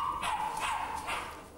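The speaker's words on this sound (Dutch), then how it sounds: "Deze hond moet bijvoorbeeld helemaal naar Tokio." A dog at Schiphol airport, about to fly to Tokyo, gives three short barks or yips at close range over a steady background hum, with no talking.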